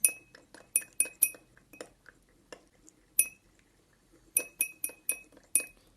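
A spoon stirs Lipton instant powdered tea in a glass, giving a series of bright, sharp clinks in uneven bursts with quiet gaps between them, close and clear.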